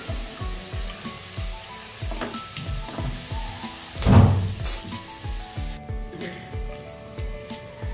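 Garlic ginger paste sizzling hard in a hot frying pan with lightly browned onions, a dense continuous crackle with rhythmic scraping and stirring taps and a louder burst of sizzle partway through.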